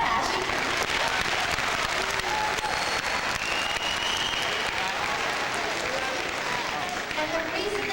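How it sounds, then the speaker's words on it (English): A school assembly audience bursts into dense, sustained clapping that fills the room for several seconds, with scattered cheers and voices mixed in. "yes, you can clap for that."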